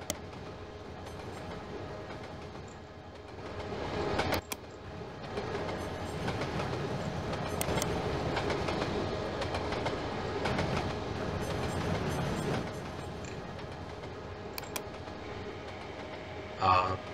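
Steady rumble of a train running along tracks in the video game Trainz TRS2004, with occasional clicks and clacks, a voice speaking over it throughout.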